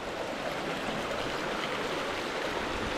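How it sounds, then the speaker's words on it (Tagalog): Water from a hot spring stream rushes in a constant, even broadband wash, close and steady throughout. "Yung agos ng tubig, oh."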